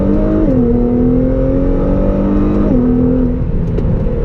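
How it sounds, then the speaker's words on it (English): A car fitted with a Nismo exhaust and Fabworx Y-pipe pulls hard at full throttle in second gear, its engine note droning loud and steady, then stepping down in pitch as it shifts, with no talking. "All right, second gear pull. Full throttle."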